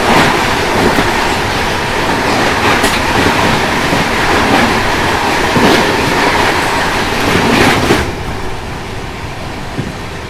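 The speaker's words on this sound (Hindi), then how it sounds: "सामने से आ रही है विशाखापट्टनम नई दिल्ली आंध्र प्रदेश एक्सप्रेस।" The Visakhapatnam–New Delhi Andhra Pradesh Express roars past close by with a loud, continuous rumble and rhythmic wheel clatter, then fades slightly at the end.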